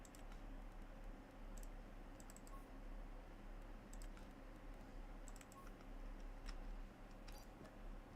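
Computer keyboard keys pressed steadily during a Farming Simulator 25 session, a quiet, continuous patter of soft clicks at close range with no talking.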